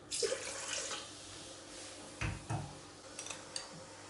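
Warm milk poured into a kneading bowl while making dough, a short splashing pour with a few faint clinks and knocks around it, quiet and close.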